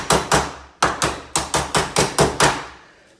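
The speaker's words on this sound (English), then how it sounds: "Might need to give it a bit of a tap with the hammer." A hammer taps a door lock into place in an internal door, about eleven sharp, close knocks in quick irregular bursts, each ringing briefly, with no one talking.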